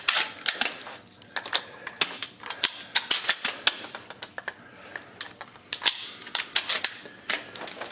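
Shells being loaded one by one into a SPAS-12 shotgun, a run of sharp metallic clicks and clacks in an irregular rhythm, close and fairly crisp, with no talking.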